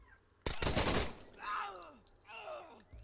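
A sharp burst of gunfire from a machine gun in the video game Door Kickers 2 cracks out loud and close, followed by groaning, warbling in-game sounds that sweep downward.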